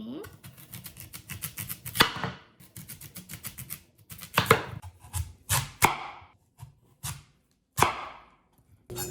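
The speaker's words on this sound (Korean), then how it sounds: "무를 이렇게 잘라 볼게요" A kitchen knife cuts through a green-topped radish, skin left on, for kkadugi radish kimchi. Brisk, close chopping strokes come in quick bursts and then as single sharp chops against the board.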